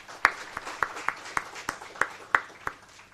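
Sparse applause from a university conference audience, a handful of separate sharp claps spaced irregularly over a faint room hum, fairly quiet and somewhat distant.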